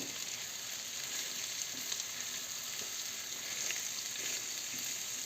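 Steady, close sizzling of onion frying in a pan, a continuous hiss with faint crackles and no talking.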